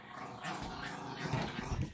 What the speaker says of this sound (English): and of course, my dogs are all awake.